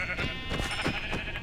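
Several Minecraft sheep bleat in quick succession, overlapping nasal calls of a crowded flock packed into a tower, close and fairly loud with no talking.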